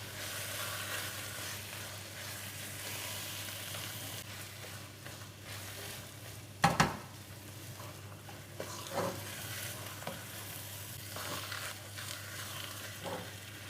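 Khoya being fried and stirred in a pan for halwa, with a steady low sizzle under scraping spoon strokes and one sharp clank of the utensil against the pan midway.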